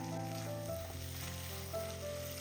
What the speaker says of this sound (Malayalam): ഇനി ഇതിലേക്ക് നമുക്ക് ഒരു തണ്ട് കറിവേപ്പിലയും കൂടി ഇട്ട് കൊടുത്ത് ഒന്ന് ഇളക്കി കൊടുക്കാം.